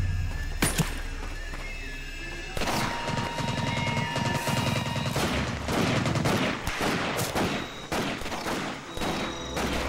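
Sniper and rifle fire crackles through a Pacific island night raid on Makin Atoll in Medal of Honor: Pacific Assault, sharp repeated shots over a steady battle din, with a horse whinny mixed into the loud, dense background.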